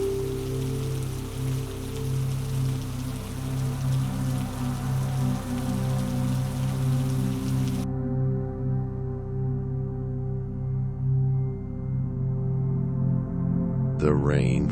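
Steady rain falls on cobblestones on a Paris street at night, a dense, even patter that continues without pause, loud and near, with a low tonal hum underneath.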